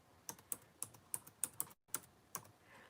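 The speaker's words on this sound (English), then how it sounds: "typing with these things is so hard" Fingers type on a keyboard with a burst of about a dozen sharp, close clicks at an uneven rhythm, spread across a couple of seconds with a brief silent gap, quiet and without talk.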